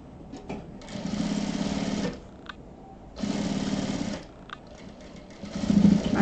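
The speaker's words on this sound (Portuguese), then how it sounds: "Aí finalizamos com retrocesso o nosso bolsinho." A sewing machine backstitches to finish a small pouch, two short close bursts of rapid stitching separated by a pause.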